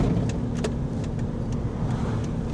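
A car idles and rolls slowly into a town-centre council car park for an overnight stop, its low, steady engine rumble close and continuous with no talk.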